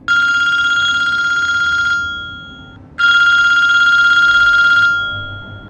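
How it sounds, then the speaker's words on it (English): A cell phone rings loudly and close by in two bursts of a steady electronic bell-like tone, each lasting about two seconds with a one-second gap between them, and no voices. "Just then, his cell phone started ringing again."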